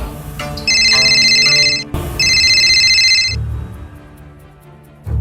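A phone rings loudly in two electronic bursts separated by a short pause, followed by quieter room sounds and no speech.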